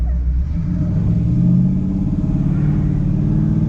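Chevrolet El Camino with a 4L80E transmission pulls away on a test drive, its engine rumbling low and steady as it accelerates, close and loud with no talk.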